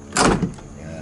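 Door of a 1992 Toyota Tamaraw closing: one short, loud thud with a brief rattle that fades within about half a second, heard close up.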